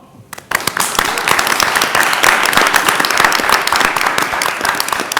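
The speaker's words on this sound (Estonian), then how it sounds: "Suur aplaus!" Big audience applause at a student campus party contest as scores are announced, a dense, loud wash of clapping that swells in after a brief quiet start and holds steady throughout.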